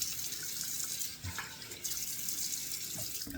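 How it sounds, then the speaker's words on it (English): Cold water running from a bathroom sink tap during a shave, with steady flow and a few brief splashes as water is cupped and thrown onto the face, close and fairly quiet. "Let me just splash a couple of splashes of cold water on."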